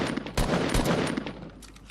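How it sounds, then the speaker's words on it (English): Rapid automatic gunfire in the Fortnite video game, a quick burst of several sharp shots in close succession, moderately loud and heard alone without talk. "you can just practice and take shots"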